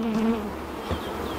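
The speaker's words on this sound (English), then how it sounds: "Plenty of bees coming and going" Honey bees buzz steadily and close by, a dense hum of many insects that rises and falls slightly.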